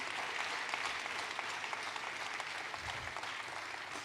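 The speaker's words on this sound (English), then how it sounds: "Big round of applause for Willy" Sustained audience applause at a tech talk, a dense steady wash of clapping from a large crowd filling the whole span without break.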